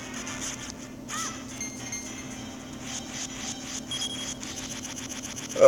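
A bird enemy caws in The Legend of Zelda: The Minish Cap, with harsh crow-like calls over game music, followed by a run of quick clinking game effects, with no voices.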